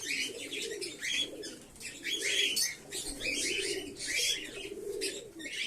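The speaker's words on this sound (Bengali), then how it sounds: "পায়রাটা খুব সুন্দর।" A large pigeon cooing in soft repeated low phrases amid chirping and brief wing flutters, fairly close and steady throughout.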